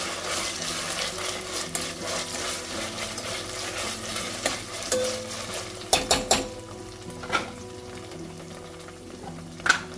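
Ginger garlic paste frying in oil in a pan, a constant close sizzle broken by a few sharp clinks and scrapes of a utensil against the pan, with no talking.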